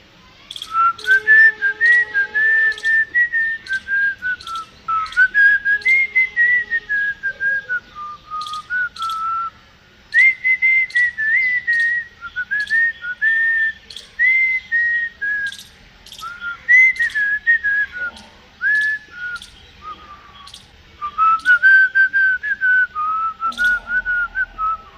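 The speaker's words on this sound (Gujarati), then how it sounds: "સીટીથી એક ધૂન વગાડીએ આપણે ડોરેમોનની જ વગાડીએ" A person whistles a cartoon theme tune, Doraemon's, while on a rooftop terrace taking down dried laundry. The melody comes as clear, close, bright phrases with short breaths between them and no talking.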